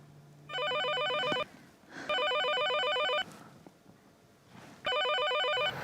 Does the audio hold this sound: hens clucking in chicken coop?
no